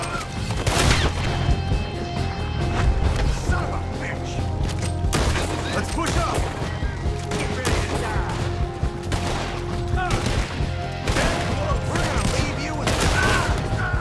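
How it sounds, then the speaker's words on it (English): Shootout gunfire in Red Dead Redemption 2 at Beaver Hollow: loud, rapid, overlapping rifle and pistol shots crack throughout in a dense fusillade, with scattered shouting voices mixed in. "I'll have to shoot our way out."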